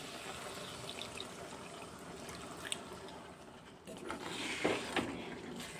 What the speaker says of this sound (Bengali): একদম সামান্য একটু জল দিয়ে দেব।